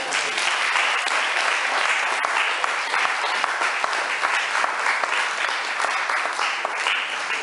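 A church congregation at a wedding ceremony breaks into dense, sustained applause, loud and even from start to finish with a faint voice beneath.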